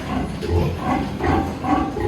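Pigs in a barn at night, a sow nursing a litter of newborn piglets, give steady low grunting with soft squeals layered through, a continuous close mass of animal sounds without pauses.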